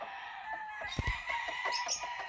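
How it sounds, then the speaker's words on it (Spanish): A rooster crows loudly nearby at a rooster auction, with clucking and chatter from other birds around it. "El gallo es hermoso, señor."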